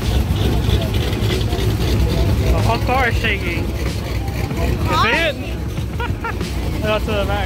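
At an outdoor car show, a car engine idles with a deep, shaking rumble, heard close under loud crowd chatter and nearby voices.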